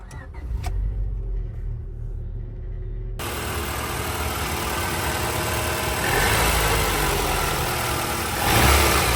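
A Honda S2000 engine cranks and catches after a few quiet clicks, then settles into a steady, close, old-school idle with a slight swell near the end.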